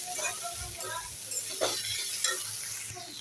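Potatoes coated in turmeric and chili powder masala fry in a pan, with a steady sizzle broken by repeated scraping stirs of a spatula, close and moderately loud, with no talking.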